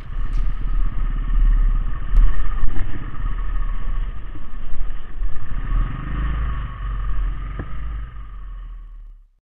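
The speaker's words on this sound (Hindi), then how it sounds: "रोड पर इतनी ज़्यादा ब्लैक आइस के कारण बाइक भी अच्छे से नहीं चला पा रहे थे हम" Motorcycle riding slowly on a black-ice road at Khardung La in Ladakh; a steady, close engine drone with low rumble and occasional clatter, fading out at the end.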